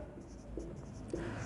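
Pen or chalk writing out a division working for a class 10 real numbers maths lesson, heard as a faint continuous scratching with a couple of brief squeaky strokes under a noisy background.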